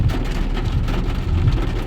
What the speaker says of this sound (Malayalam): അത്യാവശ്യം നല്ല രീതിയിൽ മഴ പെയ്യുന്നുണ്ട്.